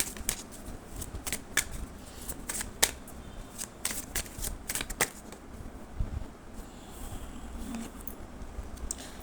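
Tarot cards being shuffled in the hands, a run of crisp riffling snaps and soft flutters at close range, quiet and alone with no talk.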